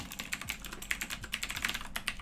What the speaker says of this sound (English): I love typing the same lines of code again and again.